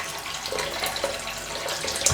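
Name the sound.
water running from a tap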